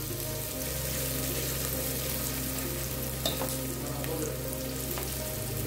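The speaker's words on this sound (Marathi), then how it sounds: "मी कांदे चांगले लालसर परतून घेते" Onions fry in a pan for a chicken curry, a steady, close, continuous sizzle with faint stirring and occasional small clicks, and no voices.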